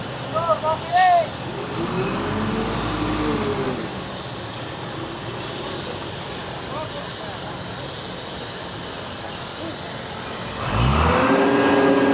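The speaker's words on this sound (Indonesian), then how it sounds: "mobil molen sudah maju" A concrete mixer truck creeps forward during road concreting work in Bekasi. Its engine rumbles and revs up near the start and again at the end, with a steady work-site drone between and voices in the background.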